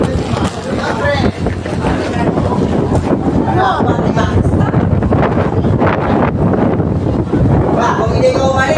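Strong wind at Jolo port in Sulu, Philippines buffets the microphone in loud, roaring gusts while people talk and exclaim close by.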